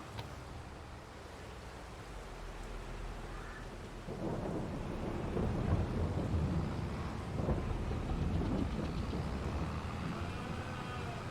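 Rain falls on a farm with deep rumbling thunder, a low steady wash that swells louder partway through and keeps rolling, heard from outdoors with no voices.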